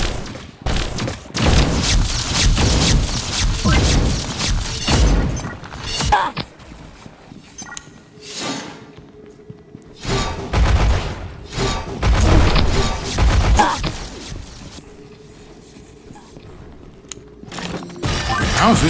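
Shotgun blasts from the mobile shooter Pixel Gun 3D in a Classic Pool match, loud repeated booming shots in bursts with gaps, mixed with game effects and some voice.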